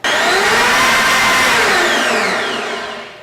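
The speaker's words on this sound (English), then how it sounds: "blend that for a couple seconds" A blender whirs loudly and continuously for a few seconds, then winds down as the motor slows near the end.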